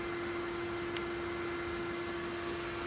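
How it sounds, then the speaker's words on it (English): Steady fan whir with a constant low hum and broadband hiss at night near an off-road vehicle, faint and unchanging throughout with no voices. "Sorry about the fan. Can't help that right now."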